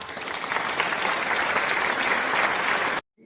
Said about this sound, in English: A virtual applause, please.